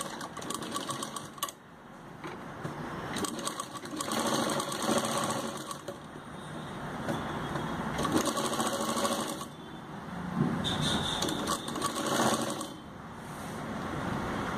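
A sewing machine stitches a kameez in long steady runs with short pauses and rattling mechanical texture, close and fairly loud, with no voices.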